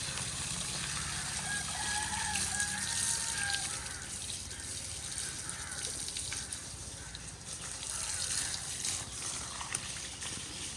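Water from a pipe washes soil and clay-rich dust off graves in a graveyard, a steady close gush and splatter running throughout, with faint birds and distant activity in the background.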